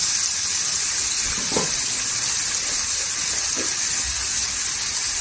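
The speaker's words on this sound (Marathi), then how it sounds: "टोमॅटो असं तेलावर परतून घ्यायचं, म्हणजे सॉफ्ट होतात।" Tomatoes sautéing in oil for a dried shrimp curry, a steady close sizzling hiss with a couple of faint brief knocks.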